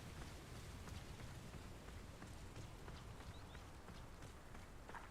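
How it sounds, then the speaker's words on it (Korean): Rain falls in the video game Hogwarts Legacy, a faint, steady hiss and patter with a few soft, clop-like footsteps mixed in. "친구랑 놀려고 했더니 비가 오네."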